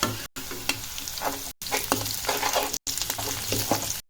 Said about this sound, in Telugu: కరివేపాకు కూడా కొద్దిగా చిట్టపట అయినాక మసాలా వేసుకుందాం